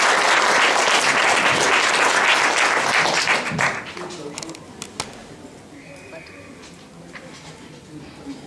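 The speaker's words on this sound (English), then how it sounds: "Please give a round of applause for welcoming Swami" An audience at a lecture in Boston claps loudly and steadily for a few seconds. The applause then thins into scattered claps and fades into room murmur.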